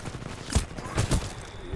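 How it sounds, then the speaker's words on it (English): Smart pistol shots in the Titanfall video game: several sharp bursts of gunfire, a few clustered blasts over a steady game background, moderately loud and close. "That smart pistol is pretty wicked."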